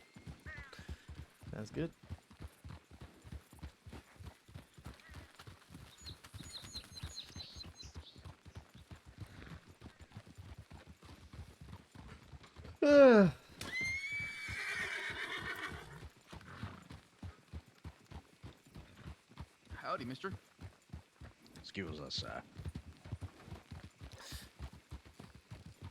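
Horses trot through town in a roleplay video game, a steady rapid clip-clop of hooves running under the whole stretch, with a brief neigh midway and people talking over the hoofbeats.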